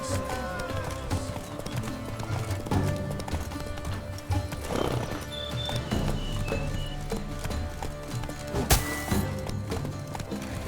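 A horse gallops in The Witcher 3: Blood and Wine, rapid hoofbeats running through busy game music and effects, with a voice speaking briefly over the mix.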